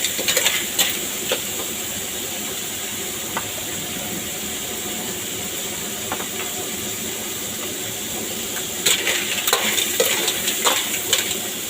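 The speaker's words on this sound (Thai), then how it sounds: "พอดีได้ได้หอยตัวใหญ่ๆมานะทุกคนหอยลายตัวใหญ่มากมาก ผัดเลย ผัดให้เข้ากันนะ" Large striped clams being stir-fried in a pan: a constant loud hiss and sizzle, with bursts of scraping and clattering stirs at the start and again near the end. Nobody speaks.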